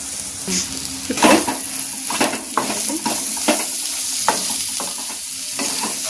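Mutton dobba fry sizzles in a pan with garam masala and coriander while a spoon scrapes and stirs, giving repeated clanks against the metal over a steady frying hiss, close up with no voices.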